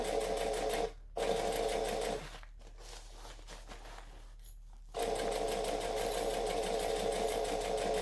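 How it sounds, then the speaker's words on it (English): Sewing machine stitching slowly through several fabric layers along piping, a steady close whir that stops briefly, pauses for a few seconds, then resumes. "Now I'm going to go slowly because there's now quite a lot of layers"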